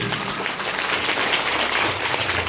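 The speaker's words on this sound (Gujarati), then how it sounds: "જોરદાર તાળીઓના ગણગાટથી" Steady applause from a group of people, loud and continuous from start to finish.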